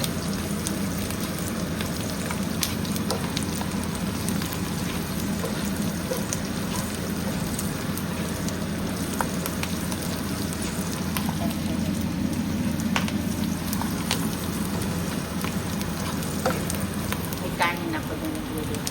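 Dried squid and dried fish frying in a pan, giving a continuous dense crackling sizzle at steady loudness with faint talk underneath.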